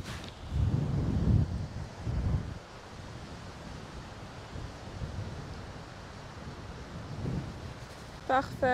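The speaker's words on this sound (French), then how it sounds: "le vent, il est bien contre" Low, blustery wind on a golf course rumbles into a microphone in gusts, with quieter stretches between and a brief higher sound near the end.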